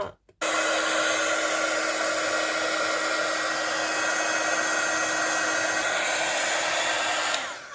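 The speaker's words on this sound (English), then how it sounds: "I'm just going to get my heat gun and heat that up." A heat gun warms a stamped card in a continuous loud, even blowing roar lasting several seconds, which starts and stops abruptly with no talk.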